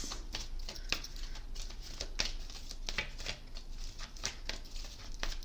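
Oracle cards shuffled by hand in a quiet room, giving a run of soft, papery riffles and taps that repeat steadily for several seconds, close and fairly faint, with no talking.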